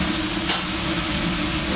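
Burgers sear on a clamshell grill with a steady, loud, broadband sizzle and hiss that continues without a break, with no talking.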